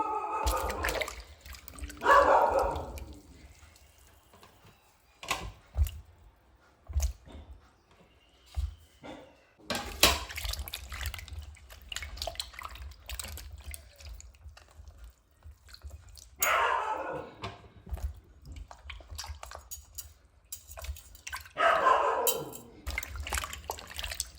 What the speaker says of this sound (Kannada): ಈಗ ಕ್ಲೀನ್ ವಾಟ್ರಲ್ಲಿ ಪುನಃ ನಾನು ವಾಶ್ ಮಾಡ್ತಾ ಇದ್ದೇನೆ